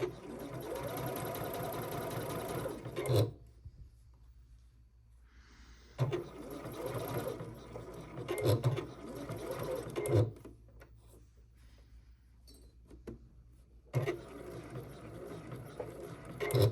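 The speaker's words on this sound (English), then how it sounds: "Pivot once more and sew down the center of the other side." A sewing machine stitches a boxer shorts seam in several loud, rapid bursts separated by quiet pauses as the fabric is pivoted, each run a steady mechanical whir.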